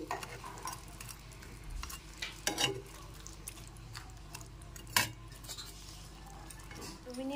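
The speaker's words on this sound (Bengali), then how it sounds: "একটু এইভাবে গ্রেভির সাথে এপাশ ওপাশ করে উল্টিয়ে নিচ্ছি আর 2 মিনিট ফুটিয়ে নিচ্ছি।" Khoira fish simmering in gravy as the pieces are turned, with faint bubbling and occasional light clinks and scrapes of a utensil in the pan, quiet throughout.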